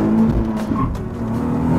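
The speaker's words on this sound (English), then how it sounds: "Wheel spin on the gear change." Nissan 370Z Nismo breaking into wheel spin on a gear change, a loud, close engine drone with tire squeal building over a couple of seconds.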